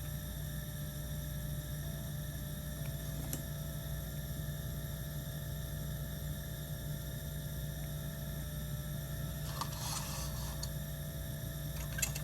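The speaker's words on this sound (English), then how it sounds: "That humming in the background is the sound of the pump for the pipetter." A small fish-tank-style air pump drives a lab pipetter while LB agar plates are poured, giving a steady, continuous low hum throughout, with a brief faint clatter near the end.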